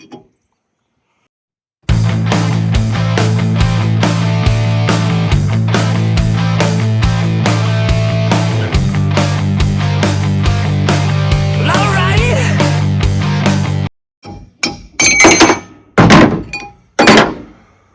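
Bearing races are hammered out, producing a rapid, steady string of loud, close metallic thuds that runs for about twelve seconds, followed by a few separate, sharper bangs after a pause.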